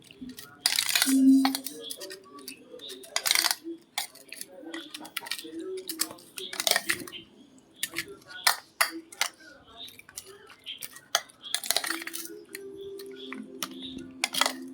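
A metal spoon scrapes and clinks against a pan while soy sauce and salt are mixed into food, irregular close knocks and scrapes with a person talking between them.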